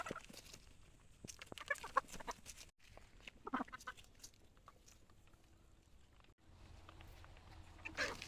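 Chickens feeding in a game farm's range area cluck and chatter in scattered bursts, fairly faint and moderately distant, with occasional sharper calls and soft background rustling.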